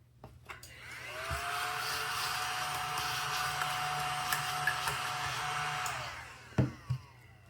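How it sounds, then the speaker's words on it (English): A cordless, battery-powered vacuum cleaner runs with a steady whine for about five seconds, starting and stopping cleanly, with a few clicks and knocks at either end, close by and without talk. "My vacuum is not doing a super great job today."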